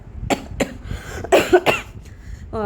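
Several close, sharp coughs in quick succession, loud and dry, followed by a brief clearing sound.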